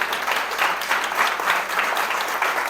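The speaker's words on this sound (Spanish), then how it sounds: "¿Le das un aplauso a Jesús en esta hora?" A church congregation claps through a worship service, a dense, even patter of many hands filling the room steadily for a few seconds, with no talk over it.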